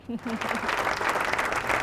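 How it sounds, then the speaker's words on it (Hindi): Studio audience applause at a televised Ramadan quiz competition, a dense steady wash of clapping rising after a brief vocal note and sustained loudly throughout. "तालियां होनी चाहिए इनके लिए"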